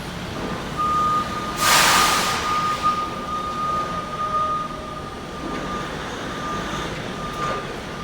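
Forklift loading a trailer sounds a thin, steady reversing beep over a low engine rumble, with a brief loud hiss of air partway through and fainter beeps afterward.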